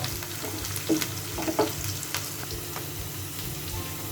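Onions and green chilies fry gently in a pan for a potato dish, giving a quiet, steady sizzle broken by a few soft clinks and stirring taps.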